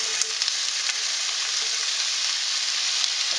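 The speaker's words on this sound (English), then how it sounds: "we're going to start sauteing that right now" Chicken sausage sautés in a skillet with a steady, dense sizzle that stays loud and even throughout, a few faint clicks of stirring on top, no voices.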